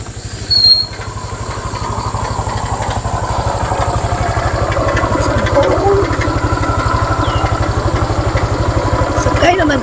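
A Honda Click motorcycle idles close by, its engine running in a steady mid-pitched putter for the whole stretch, with a brief louder bump near the start and faint background activity.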